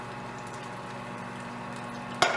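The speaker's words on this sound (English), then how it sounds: "let your stuff sizzle." Pepperoni sizzles in a pan, giving a soft, steady crackling and hiss that runs close by at low volume, with a brief louder burst of noise near the end.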